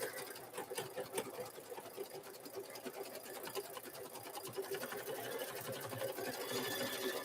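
An embroidery machine stitches free-standing lace, a rapid, steady mechanical needle chatter running continuously at moderate level, with no talk.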